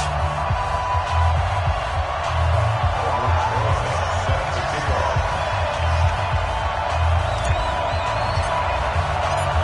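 A virtual stadium crowd in an NFL football video game, Washington against New York, roars as a steady, loud wash of cheering, with faint voices mixed in.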